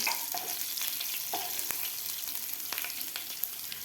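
Finely chopped green chili frying with cumin in hot oil on a medium gas flame, a steady close sizzle with a few sharp pops and light stirring scrapes throughout.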